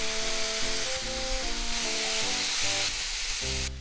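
Pork kimchi stir fry sizzles steadily in a hot pan, a constant loud frying hiss that holds without a break, with background music playing under it and no talking.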